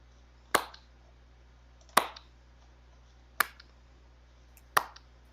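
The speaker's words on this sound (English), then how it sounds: "Don't slow clap at me." Four sharp, evenly spaced single claps, slow and deliberate about 1.4 seconds apart, crisp and close in an otherwise quiet room.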